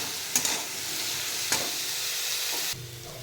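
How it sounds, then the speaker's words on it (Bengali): Radish pieces fry in a pan with a steady close sizzle, seasoned with turmeric and salt, broken by a few sharp stirring scrapes and a brief drop in hiss near the end. "এটা দিয়ে একটু ভেজে নেব।"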